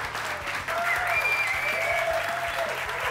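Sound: applause for a band

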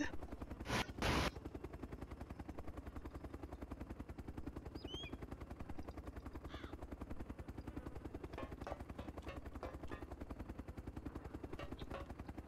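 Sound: helicopter in the video game DayZ Epoch

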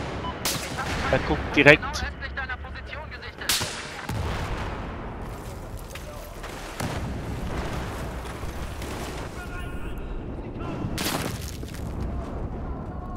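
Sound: gunfire including CSLR-4 sniper rifle in video game Battlefield 4

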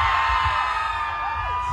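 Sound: crowd screaming and cheering

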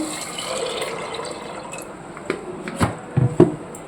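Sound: water poured onto kabuli chickpeas

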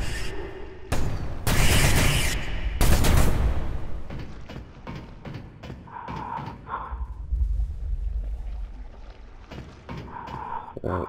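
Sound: SMG gunfire in the video game CDF Ghostship

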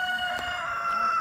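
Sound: hens clucking in a village yard

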